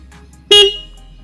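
A single short, loud horn beep from a new motorcycle sounds close by, lasting about a quarter second against a quiet background.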